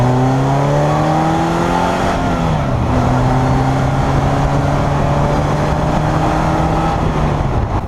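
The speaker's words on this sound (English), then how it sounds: "This has to be one of the meanest sounding naturally aspirated four-cylinders you can get anywhere" Polaris Slingshot's naturally aspirated Ecotec four-cylinder revving hard, a loud, raspy climbing engine note that drops with a gear change and climbs again, dominating the whole clip with no talk.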